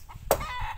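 A rooster lets out one short, sharp cluck, close and brief, over a quiet background.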